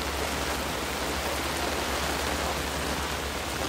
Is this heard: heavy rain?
yes